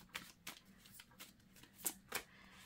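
Tarot cards shuffled by hand in quiet, a series of about six crisp riffling bursts at uneven intervals, close and fairly soft, with no voice over them.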